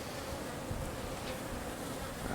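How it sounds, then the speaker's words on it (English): Honeybees flying at a hive entrance, a dense continuous buzzing drone from many insects close by, steady and fairly loud with no pauses. "Lots of bees flying."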